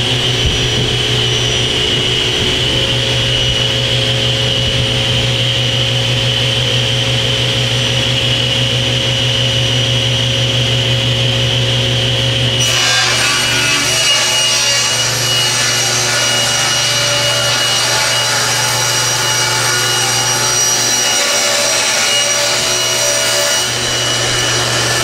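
A saw cuts 3/4 inch cherry plywood shelves, a loud continuous whine with a steady hum beneath that shifts to a rougher, brighter cutting tone about halfway through.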